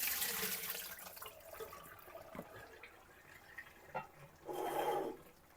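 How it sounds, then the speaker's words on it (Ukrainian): Water pours and splashes for a moment near the end as it is drained from a pot of potatoes, a brief rushing burst after quiet kitchen clatter. "Картопля, зливаю воду."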